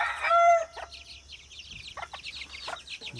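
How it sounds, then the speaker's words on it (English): A rooster crows loudly inside a chicken coop, one drawn-out call at the start, followed by scattered clucks and soft calls from nearby hens. "See if we can get a shot of the rooster doing his thing."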